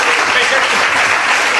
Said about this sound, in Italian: Un applauso signori a Maurizio Casagrande